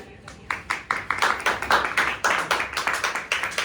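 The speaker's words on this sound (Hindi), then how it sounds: "जोरदार तालियां" Applause for the actresses of a stage play based on a Premchand story: a small group claps in a loose, moderately loud rhythm of distinct slaps that builds and holds for several seconds.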